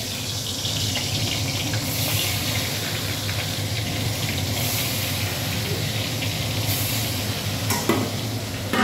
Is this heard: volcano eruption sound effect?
no